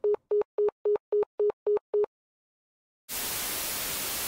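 Phone ringback tone on a repeated call attempt: eight short, evenly spaced beeps of a steady tone, then a second of silence before a burst of loud, harsh static noise.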